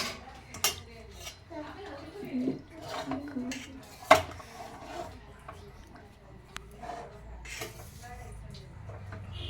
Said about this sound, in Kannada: ಈಗ ಪಾಸ್ತಾ ಹಾಕ್ತಾ ಇದ್ದೀವಿ